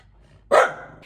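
Dogs barking at the front door of a home, a single loud, close bark bursting out after a quiet moment, followed by a fading tail and a short second sound at the end.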